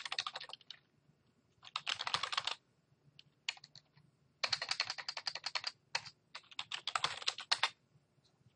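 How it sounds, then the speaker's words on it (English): A name is typed on a computer keyboard in quick bursts of light key clicks separated by short pauses, close and fairly quiet. "and you would just type in my name"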